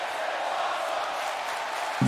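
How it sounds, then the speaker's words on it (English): A wrestling event crowd keeps up a steady, broad roar of cheering throughout, heard from within the arena, with a brief thump near the end. "The crowd's loving it"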